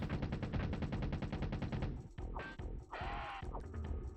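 Rapid automatic gunfire from the Doom Troopers video game, a dense run of close, loud shots for about two seconds, then a few scattered bursts and effects.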